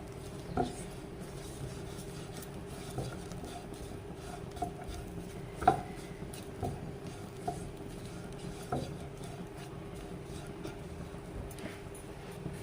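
A spoon stirs vegetables in a pan, scraping and clinking against the metal in irregular close taps over a low background hum, with a few sharper knocks.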